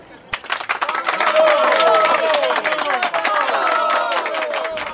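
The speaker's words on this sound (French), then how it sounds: "La foule en délire." Loud crowd noise with cheering, clapping and general roar building quickly and holding steady throughout, dense and continuous, with a few sharp voices standing out above the mass.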